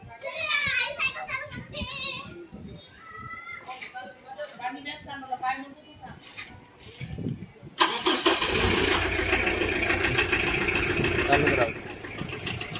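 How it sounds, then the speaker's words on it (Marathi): Several voices, including children, chatter before a diesel car that has stood unused for over two weeks cranks and catches on the first try, then settles into a loud, steady idle close by. "गाडी पहिल्या सेटमध्ये चालू झालेली आहे"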